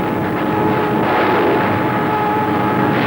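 In archival naval war footage, an enemy warplane dives toward an aircraft carrier. A steady, loud engine roar fills the scene without pause, with no speech.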